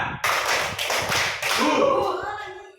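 Hands clap in a classroom activity on cue, sharp claps in short pairs under a teacher's instructions.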